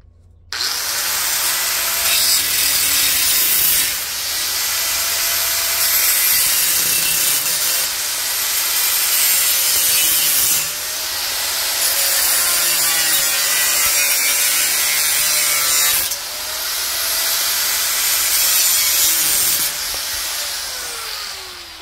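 Power saw cutting away part of a sink countertop, a loud, continuous rasping grind in several long passes separated by brief pauses, close up.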